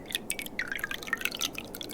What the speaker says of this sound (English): And pour it all over the table.